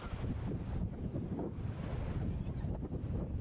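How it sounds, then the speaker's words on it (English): Wild sea waves surging and breaking along the Canadian coast, a steady, loud wash of surf mixed with heavy wind buffeting the microphone, with no voices. "Look at that wild sea."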